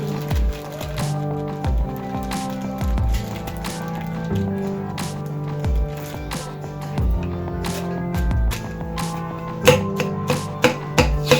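Food is chopped on a board for a homemade stomach experiment: a steady series of sharp knife taps, several per second, close and clear, with a few louder irregular knocks near the end and no talk.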